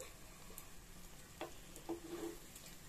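A homemade pancake fries quietly on a tawa over a gas flame, giving a soft, steady sizzle with a few faint clinks and taps.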